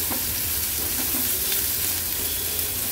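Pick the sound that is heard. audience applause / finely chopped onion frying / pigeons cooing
finely chopped onion frying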